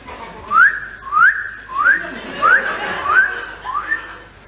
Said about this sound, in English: it sounds to me like some silly ass whistling